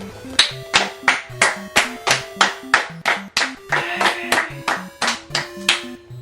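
Rhythmic group clapping after a magic show, a steady beat of sharp synchronized claps with faint musical tones underneath, close and fairly loud.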